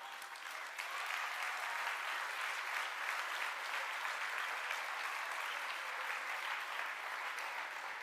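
Steady crowd applause fills a hall at the launch of the French Les Écologistes party during Marine Tondelier's speech, starting softer and then holding dense and even for about seven seconds with no voices over it.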